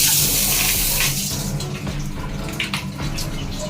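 Strong, steady gush of water from a hotel bathroom bidet, a loud broadband rushing that holds throughout, with slight splashing variations and no talking.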